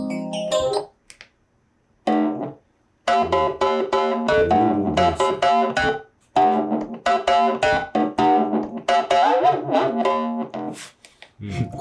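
A Yamaha reface DX synthesizer played through several presets, loud electric-piano and bright FM tones in bursts and runs with short pauses between phrases, no talk over it.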